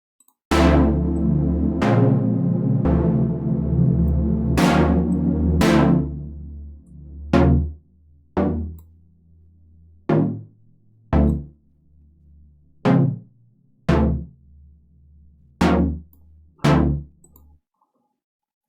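Synthesizer stab shaped by a fast-decay envelope: sustained tones at first, then about ten short punchy hits in a loose rhythm, each starting bright and dying away quickly, with no talk.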